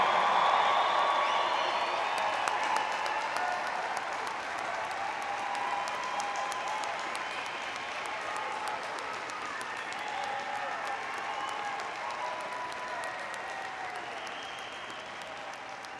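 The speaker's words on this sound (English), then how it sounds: "How about a really loud round of applause for our newest graduates?" A large crowd applauds the new graduates at a Clemson University spring evening commencement, sustained clapping mixed with a few cheers that swells at first and then holds steady, broad and reverberant across a big hall.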